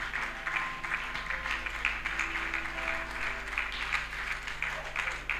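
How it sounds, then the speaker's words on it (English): Congregation clapping during a church service, steady sustained applause filling the room with some voices mixed in, continuous and moderately loud throughout. "Clap until they come."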